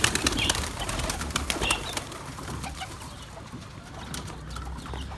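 Pigeons flutter and coo as grain is tossed upward for them in a home bird-keeping setting, with bursts of wing flapping early and softer cooing and rustling after, close by and no talk.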